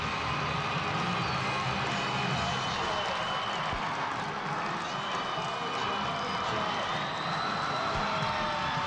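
Fans in a hockey arena keep cheering after Middletown North wins the 2015 New Jersey high school Public B final at the Pru Center, a steady distant roar of crowd noise and clapping under commentary.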